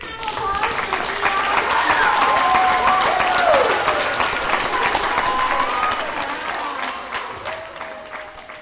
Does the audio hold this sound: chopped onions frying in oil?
no